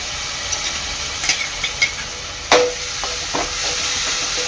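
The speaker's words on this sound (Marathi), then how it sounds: "यामध्ये टाकते अद्रक लसूण मिरची कोथिंबीरची पेस्ट" Ginger, garlic, chilli and coriander paste hitting a hot pot after browned onions, a continuous loud sizzle and hiss with a few clinks and one sharp knock of a spoon, heard close with no talking.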